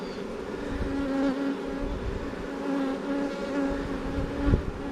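Honey bees buzz in a dense, steady drone inside an open hive, close and continuous, with a few brief bumps of handling noise.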